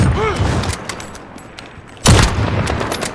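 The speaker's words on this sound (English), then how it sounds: "So the third and final marksman weapon is the Kar98K." A Kar98K marksman rifle fires in Call of Duty: Modern Warfare, with two heavy, booming shots about two seconds apart. Each shot carries a rolling tail, under faint in-game battle chatter.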